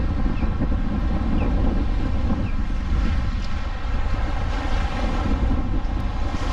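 Strong wind buffets the microphone by a lake during a thunderstorm, a loud continuous roaring rush with churning water beneath it and no talking.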